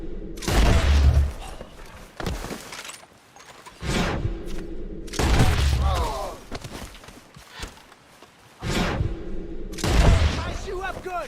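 Gunfire in Red Dead Redemption 2 comes in several loud, booming bursts separated by short pauses, with character voices shouting between the volleys.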